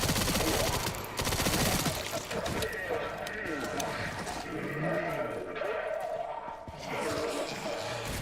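Rapid machine gun fire in Resident Evil Requiem, during a motorcycle jousting fight, crackles loudly as dense bursts early on, then continues more thinly beneath voices and engine-like game noise.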